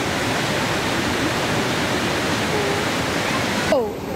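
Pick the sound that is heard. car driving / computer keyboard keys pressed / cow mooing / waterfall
waterfall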